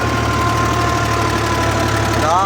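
A tractor engine labours under heavy load while pulling a five-furrow plough through a farm field, a steady loud diesel drone with a knocking pulse throughout, heard alone.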